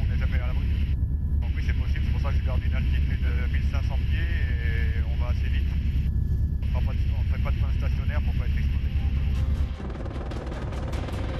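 A helicopter flying high and fast over New Caledonia makes a constant heavy rotor and engine roar with muffled voices talking over it, and the noise drops suddenly near the end.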